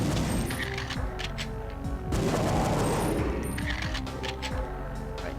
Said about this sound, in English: That guy's got a weapon that I believe is called a Reaver. It's like a Gatling type gun.